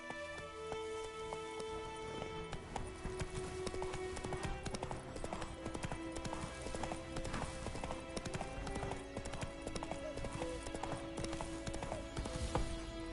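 Hooves of the horse Roach clip-clopping steadily in The Witcher 3, a continuous rhythmic trot with rain-like patter and game ambience underneath.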